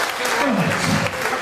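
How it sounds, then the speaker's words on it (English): Wedding party guests clap for the quiz-winning table in a brief burst of applause, with a voice speaking over the clapping. "Another big round of applause for our winners of the quiz, the Caledonia."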